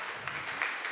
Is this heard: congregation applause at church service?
yes